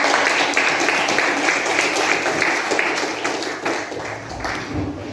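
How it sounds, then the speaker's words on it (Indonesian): Classroom applause for another student group after a lesson on expository texts, continuous clapping from a room full of students, fairly loud and even throughout. "Berikan tepuk tangan untuk kelompok yang lain."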